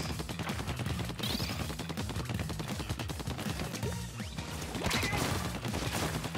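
Burst bombs going off in Splatoon 2, with rapid, dense splatting blasts and popping impacts that run continuously and loudly under busy game action.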